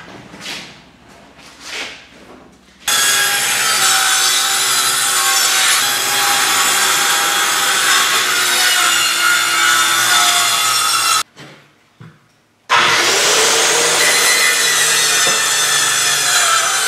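Handsaw cutting through a wooden board for a homemade deer feeder lid, a loud steady rasping stroke lasting several seconds, a brief pause, then more sawing, with a few quieter scrapes at the start.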